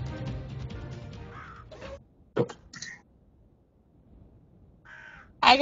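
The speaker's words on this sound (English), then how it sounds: "Hear the birds tweeting." Birds in a World of Tanks map: crows give several hoarse, distinct caws spaced by quiet gaps, fairly close and alone with no talk.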